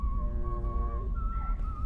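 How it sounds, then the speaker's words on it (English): A high, thin whistled tune wavers over a low rumbling background, with the pitch dipping briefly near the end. "And I hear you whistling like a madman up here."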